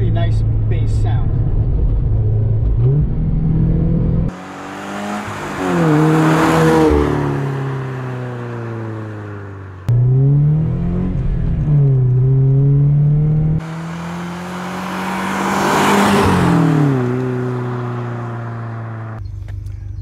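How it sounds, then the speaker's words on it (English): A car fitted with an aftermarket Magnaflow muffler exhaust revs twice from idle, each rise to a loud throaty roar then falling back to a deep bass idle, close up with no talk over it. "an important thing nowadays when you have an aftermarket exhaust in your car is how loud is it?"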